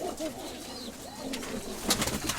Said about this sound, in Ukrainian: Це голубка, да?